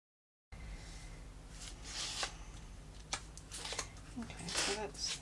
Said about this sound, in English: I'm just going to use a little pair of scissors to trim that up a bit.